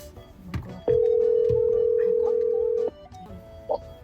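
A phone dialing a call to a father gives a few short tones and then a long steady ringback tone of about two seconds, clear and close, with faint room noise around it.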